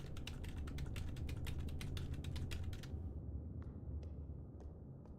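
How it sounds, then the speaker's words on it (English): Rapid, loud clattering of directional keys being pressed on a computer keyboard during a horror video game playthrough, dense tapping for about three seconds, then a few sparse isolated clicks over a low background hum. "It's just because I'm pressing all of the directional keys."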